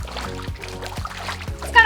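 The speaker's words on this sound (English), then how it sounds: "It's kind of fun to splash around in the water too." Someone splashes around in the water of a swim spa during a cardio workout, with a few rhythmic sloshing strokes close by and a short brighter splash at the end.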